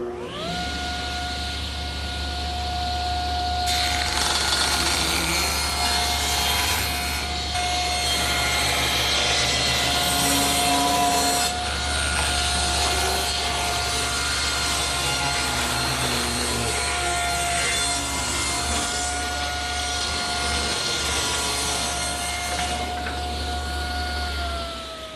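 Table saw ripping a thin strip off the edge of a wooden board for a rustic coffee table, a loud motor whine that bogs into a rough cutting roar as the blade bites, then returns to a steady hum.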